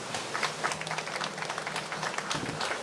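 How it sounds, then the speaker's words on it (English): Seminar audience applauding at a Cuba solidarity event, a steady, moderately distant patter of many hands clapping throughout without letup. "Round of applause, please."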